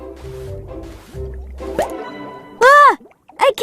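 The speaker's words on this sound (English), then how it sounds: "The bunnies filled some buckets with water." Water pours into buckets with dripping, squishing and liquid sounds, ending in a loud, bright splash and a few shorter splashes close by; no one speaks.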